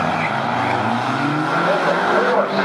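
A 2006 Mazda Speed 6 and a 2011 Mitsubishi Ralliart 2.0 race a quarter-mile drag strip, with loud continuous engine roar and tire noise and an announcer talking over it.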